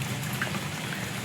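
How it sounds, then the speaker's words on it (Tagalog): Heavy rain falls steadily in continuous hissing patter during an orange rainfall warning, a soft even wash with no other sounds. "Simula po kagabi, ulan ng ulan."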